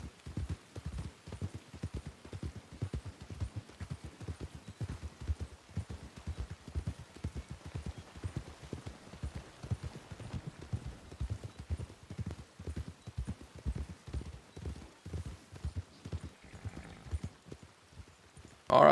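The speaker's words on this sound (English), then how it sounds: "That's a stocky little horse." A stocky horse's hooves clip-clop in a steady, even rhythm for the whole stretch in Red Dead Redemption 2 roleplay, moderately close and fairly soft, with no talk over them.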